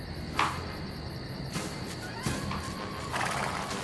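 A horse neighs in a German Karl May audio drama set outdoors, a brief whinny rising over a steady bed of chirping crickets, with faint thuds and shuffling in the background.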